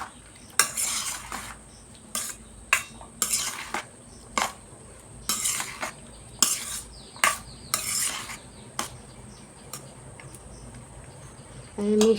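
Sago is mixed with a little water in a bowl, giving a series of irregular spoon scrapes and clinks against the dish in short bursts with quiet gaps between them.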